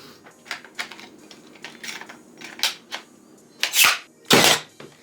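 A Milwaukee cordless nailer driving nails, giving a series of sharp, close snaps and clicks at uneven intervals, with two louder, fuller bangs near the end.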